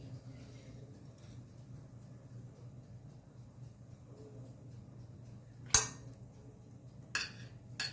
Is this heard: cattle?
no